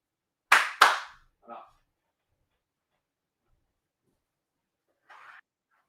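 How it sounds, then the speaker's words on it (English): Two sharp, loud hand claps in quick succession, with a softer third smack shortly after, then near silence and a faint brief rustle toward the end. "And it was a clap. It wasn't a hit. It was a clap"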